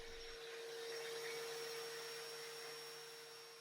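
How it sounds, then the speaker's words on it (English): An electric sander works the curved surfaces of an Art Deco sideboard, giving a steady, faint whirring drone with a thin high whine that runs unbroken and alone. "I used my new sander on the curved surfaces"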